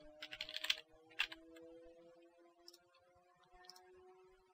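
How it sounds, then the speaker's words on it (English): Login credentials typed on a computer keyboard: a quick cluster of close, light key clicks, a pause, then a few more scattered taps over a faint steady background hum. "type in your credentials"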